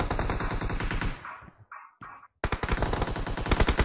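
Rapid automatic bursts from an M4 rifle in a shooter video game, sharp sustained rattles broken by brief gaps, then a renewed loud volley.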